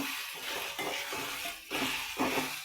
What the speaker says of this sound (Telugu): పసుపు అల్లం వెల్లుల్లి వేసాను. అది వేగుతూ ఉంది, కొంచెం పచ్చి వాసన పోవాలని.